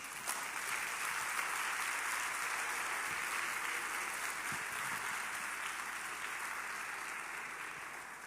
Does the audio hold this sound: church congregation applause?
yes